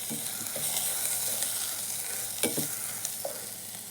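Spices with garam masala and pepper fry in a pan, a steady close sizzle with occasional scraping stirs and soft clicks, no voices.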